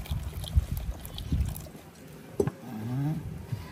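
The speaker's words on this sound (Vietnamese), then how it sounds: "Thì Dũng sẽ cho nước vào" Water is poured into a flour batter mix for a Vietnamese bánh khọt, giving close, uneven sloshing and trickling bursts with a few knocks, moderately loud and without speech.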